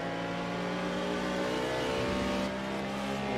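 GT3 race cars accelerating at Azure Circuit in Project Cars 2 on PS4, a loud, steady engine howl with rising revs as the cars push through a corner, with no talk over it.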